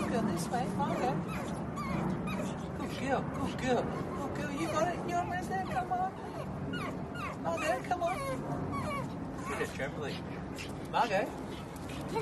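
A pug puppy yips, barks and whimpers in a steady stream of small sounds, close by but soft, under and among people talking throughout.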